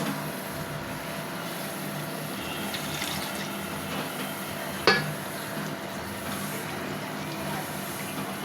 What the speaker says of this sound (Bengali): হাঁড়িটা ধুয়ে একটু পানি দিয়ে দিলাম।